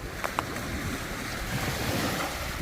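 Waves rolling onto a Marco Island beach after Hurricane Ian, a steady close wash of surf mixed with wind noise on the microphone, continuous and fairly loud with no one speaking.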